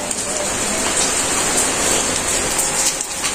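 Steady rain falls on a village home in Bangladesh, a dense, even hiss of drops on surfaces that holds constant throughout with no voices.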